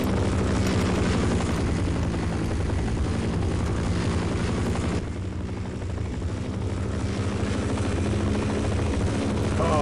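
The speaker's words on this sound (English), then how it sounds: "Helicopter, why won't you go away" Relentless rotor thudding from an attacking helicopter in Half-Life fills the scene, loud and near, dipping briefly midway before surging back to a steady roar.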